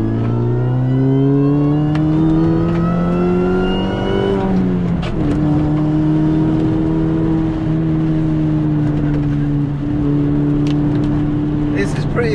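A supercharged Mini Cooper S R53 engine accelerates hard, its revving pitch climbing steadily, dropping at a gear change, then pulling up again, loud and close.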